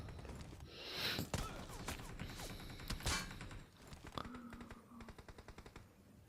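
Rapid bursts of automatic gunfire in a battle royale video game, a loud volley early and then sharper single shots, ending in a quick rhythmic string of distant-sounding rounds with no talk.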